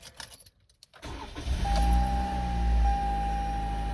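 A car with a 2.5 liter 4-cylinder engine starts up after a few faint clicks of keys; the starter catches and the engine settles into a steady, close idle hum.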